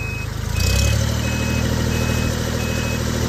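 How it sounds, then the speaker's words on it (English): A 2007 Kubota L39 tractor shifts into reverse, its diesel engine chugging steadily while a high, evenly spaced backup beep repeats over it, the engine note rising briefly as it engages. "Now you have to clutch it and shift it back. Yeah, go into reverse."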